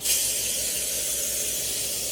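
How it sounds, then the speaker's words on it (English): Disinfectant spray with alcohol in it hisses out of a can in one steady, continuous close-up burst, alone with no talking. "this is like disinfectant spray because it's got like alcohol in it"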